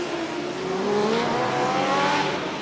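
A Formula Student race car sweeps past on a race track, its engine note climbing in a steady rising whine that builds to a loud close pass and holds before easing slightly at the end.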